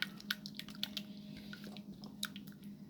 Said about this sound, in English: So we're just going to give that a quick little stir.